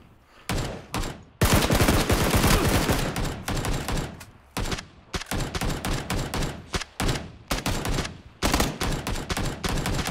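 Rapid automatic gunfire in PUBG Battlegrounds comes in loud, dense bursts separated by brief pauses, close and dominant throughout.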